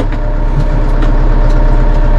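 Massey Ferguson 2850M compact utility tractor diesel engine running steadily at idle with the PTO engaging, a loud, close, even low rumble with a faint mechanical whine on top.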